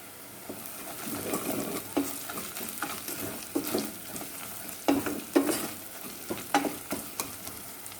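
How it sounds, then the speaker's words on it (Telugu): Onions fry with salt in a pan for a country chicken curry, a close, soft sizzle broken by repeated scraping stirs of a spoon, with no voices. "ఇలా రంగు మారే వరకు వేయించుకోవాలన్నమాట."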